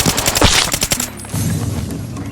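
Gunfire in the shooter game Arena Breakout: a rapid burst of loud close shots in the first second, then quieter lingering ambience and distant rumble with no talk.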